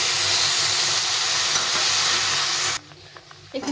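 Water pours into a hot pan of spices fried with potatoes and rice, and a loud, dense sizzle and hiss fills the first seconds before cutting off abruptly, followed by faint clinks and bubbling.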